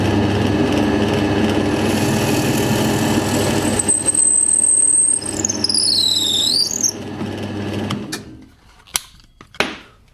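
A power drill boring a 7 mm hole for a threaded rod in a DIY router lift table, loud and steady for about eight seconds, its pitch wavering and squealing near the end before it stops, followed by a couple of sharp knocks.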